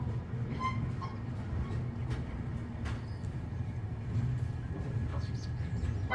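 Steady low rumble and rattle of an Indian express train departing Wadi Junction, heard from inside a 2AC coach, continuous and fairly loud, with faint squeaks and clanks above it.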